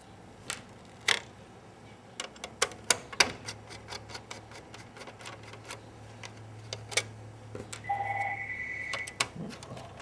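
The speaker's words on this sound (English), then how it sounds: "1 second, I got a phone call." A phone gives a short electronic ringing tone near the end, amid scattered clicks and taps of screws being sorted during a projector repair.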